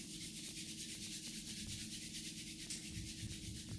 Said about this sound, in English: Bringing hands together, rubbing them to warmness